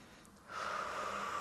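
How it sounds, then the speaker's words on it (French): A deep breath during a yoga routine: a brief sharp intake followed by a steady, close, airy exhale, heard alone without talk. "Encore une grande respiration."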